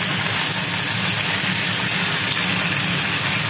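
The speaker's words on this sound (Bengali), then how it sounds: "মাংসটা ভাজার কাজ চলবে" Steady, dense hiss of frying in oil, loud and continuous throughout with a low rumbling undertone, no voices.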